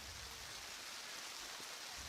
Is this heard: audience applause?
no